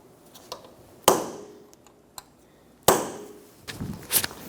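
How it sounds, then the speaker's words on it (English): A metal punch is hammered against the axle nut of a 2003-2007 Honda Accord to stake it: two sharp, ringing metallic strikes about two seconds apart, close and fairly loud, with lighter taps and clinks between them. "stake the axle nut"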